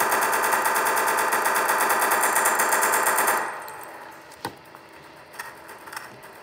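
Rapid automatic gunfire in a video game rattles loud and continuous for about three seconds, then stops, leaving a few scattered thuds and clicks.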